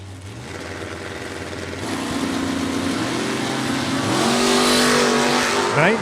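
A split-window Corvette launches down a drag strip lane at a door-car drag racing event, its engine rising in pitch as it accelerates hard, loud and close, with a second tone climbing near the end.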